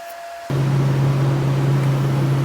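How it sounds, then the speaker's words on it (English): A grinder spins up abruptly and holds a steady, close, humming whine over hissing abrasive noise while grinding weld bead off an Uzi trunnion. "grind it off and make it look pretty"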